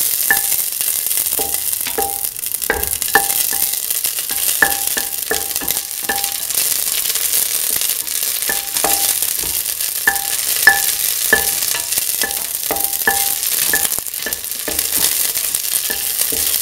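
Raisins fry in a pot for a sweet beaten rice soup, with a constant bright sizzle and scattered light clinks of a spoon stirring against the pot throughout.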